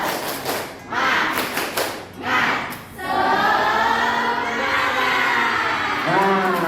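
A classroom of students performs a rhythmic spirit clap, a few quick bursts of clapping followed by loud group shouting and cheering.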